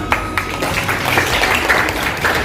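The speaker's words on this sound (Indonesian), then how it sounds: "Oke, go, tepuk tangan." A classroom of students claps together in a steady, dense burst of many hands that keeps an even level throughout.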